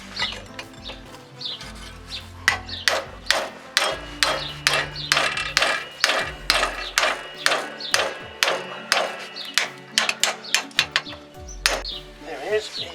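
Steel hammer blows ring out in a fast, even rhythm, roughly two dozen sharp metallic strikes, as a ball joint is shocked loose during a Fiat Scudo front wheel bearing replacement, close and loud, with a voice briefly audible.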